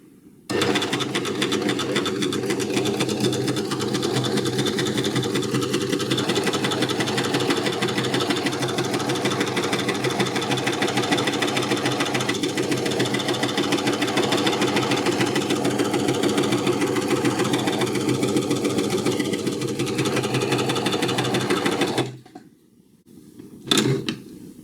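A sewing machine with a binder attachment runs continuously at a wide needle setting while stitching a strip, giving a fast, steady mechanical whir close up that stops abruptly near the end.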